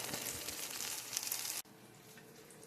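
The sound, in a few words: mashed potato patties frying in a pan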